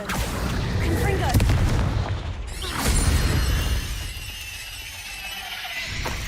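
Confringo fire spells explode in Hogwarts Legacy gameplay, giving loud rumbling booms and crackling blasts that swell and fade, with a sharp burst near the middle and game sounds continuing after.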